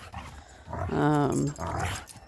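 Playful dogs, including an older gray-muzzled one and a younger one, growling husky and loud up close while playing in the snow, a rumbling drawn-out growl amid rough panting.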